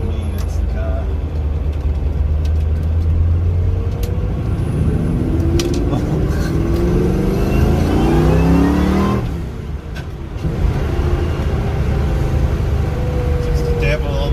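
An engine in an older V8 Nissan Gloria, a car with a suspect third-gear synchro, drones steadily while driving, then a brief throttle blip raises the revs, all heard close from inside the cabin.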